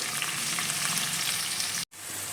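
Onions frying in a pan until golden brown for a soya granules curry, a steady close hiss of sizzling oil that cuts out briefly near the end.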